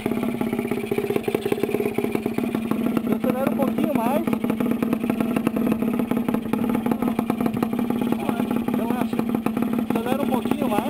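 A Yamaha Ténéré motorcycle engine runs steadily at close range with a throbbing, clattery tone and slight rises in revs, while people talk over it.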